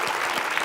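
An audience at a lively quiz-style comedy show bursts into brief, dense applause, a fraction of a second of steady clapping.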